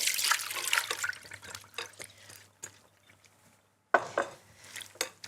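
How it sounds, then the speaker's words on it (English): Pickled onions and their brine tip into a metal colander in a kitchen, a broadband watery splash and rattle with clinks of the bowl, pausing near silence before a second short burst of pouring and clatter. "So we're going to pour that into a colander."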